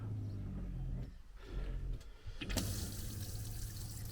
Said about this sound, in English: Water pump.